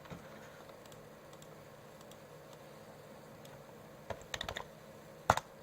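Keys clack on a computer keyboard during work in Rhino CAD software, faint scattered taps at first, then a quick burst of closer, louder keystrokes and one sharp final press.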